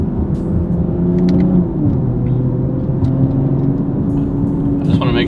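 Tuned BMW M340i with upgraded turbo, fuel pump and flex-fuel setup cruising on the road, a steady low engine drone with shifting tones underneath, close and continuous, with someone talking over it.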